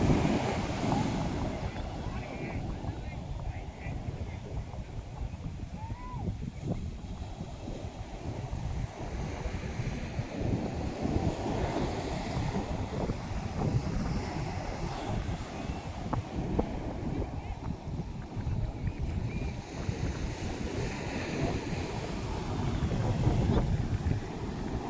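Sea waves washing against a small wooden fishing boat out on the open water, a steady rolling surge under gusty wind noise throughout.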